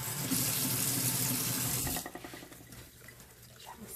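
Running tap water splashing into a sink as a makeup brush is swished through it, a loud steady rush for the first two seconds, then dropping to quieter dribbling and light sloshing.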